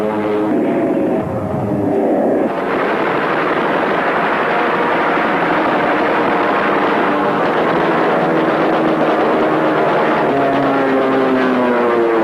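Roaring piston engines of WWII American Hellcat and Corsair fighter aircraft, a loud continuous droning drone with shifting pitch, close and steady throughout with no talking.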